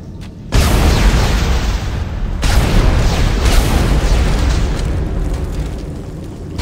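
A power node blowing up in Dead Space 2, a sudden loud blast followed by a long roaring, crackling wash of debris, with a second surge of the explosion a couple of seconds later.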